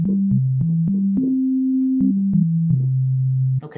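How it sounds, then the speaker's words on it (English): A smooth synthesized sine wave tone steps through a short melody of low notes, some held longer than others, clean and loud, ending with a brief noisy burst. "Go back to a sine wave."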